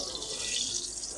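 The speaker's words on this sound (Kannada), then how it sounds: "ಇವಾಗ ಆಯಿಲ್ ಹಾಕ್ತಾಯಿದ್ದೀನಿ" Cooking oil, about 150 ml, pours into a heated pan for Karnataka donne biryani, a brief close, continuous liquid rush and hiss.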